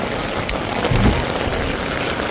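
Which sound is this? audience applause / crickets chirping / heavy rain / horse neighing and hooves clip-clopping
heavy rain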